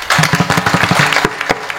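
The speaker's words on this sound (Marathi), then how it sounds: "हा आणि ह्याच्याकरता टाळी वाजवायची." Audience clapping along at a Marathi kirtan led by Madhukar Maharaj Giri: a quick, even run of sharp, close claps in steady rhythm, lasting under two seconds.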